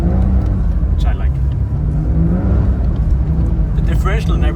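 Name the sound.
Porsche 992 Dakar driving in deep snow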